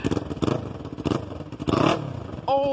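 A Yamaha R3 motorcycle with an aftermarket exhaust revs in loud bursts, roaring up and dropping several times, then settles into a high steady whine at the end.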